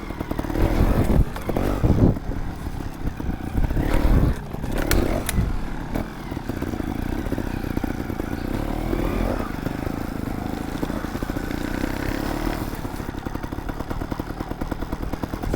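A Gas Gas TXT 250 Pro trials motorcycle runs close by with a busy, uneven engine note, rising in bursts early on with clattering knocks, then settling into a steady rumble through the rest.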